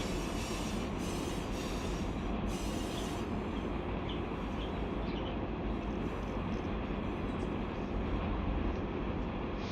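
A freight train rolls along in the Run8 railroad simulator, a steady low rumble of wheels and cars with faint squealing and clatter, continuous and fairly quiet, with no talking.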